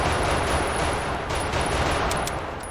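Rapid gunfire in a VR shooter, a dense burst of shots crackling continuously at close range, loud and sustained with no pauses.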